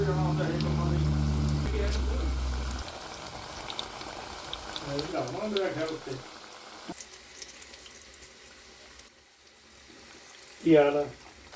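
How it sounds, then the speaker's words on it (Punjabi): Pakoras bubble and fry in a pan of oil for Punjabi kadhi, a continuous close crackling hiss with voices talking over it and a brief louder burst near the end. "ਇੱਧਰ ਆਪਣੇ ਪਕੌੜੇ ਜੀ ਬਣ ਰਹੇ ਨੇ"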